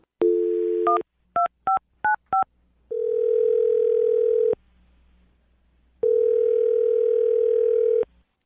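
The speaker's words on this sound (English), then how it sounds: "I'll dial her phone number right now" Telephone dialing a number: a steady dial tone, then a quick run of four short touch-tone beeps, then longer tone bursts separated by a pause, all loud and clean with no voices.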